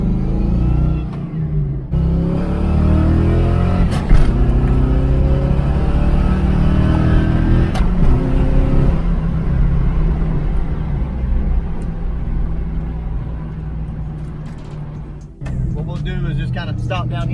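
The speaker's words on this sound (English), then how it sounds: "we're going to go through the gears" A coupe drives down the road and pulls through the gears. Its engine climbs in pitch, drops at each shift and revs up again in repeated loud pulls. It is close up, with brief mechanical clunks between gears.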